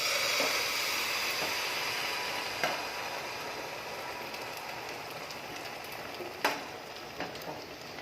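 Bread pola batter poured into a hot pan gives a soft, steady sizzling hiss, with a few small knocks and clinks of a utensil against the pan.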